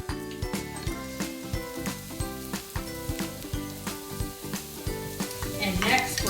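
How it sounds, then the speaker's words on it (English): Onions sauté in melted canola oil and butter, a steady sizzle broken by regular stirring scrapes and clinks that keep a rhythmic beat, with the frying swelling louder near the end. "we're gonna go straight in with our onions and get those sauteing"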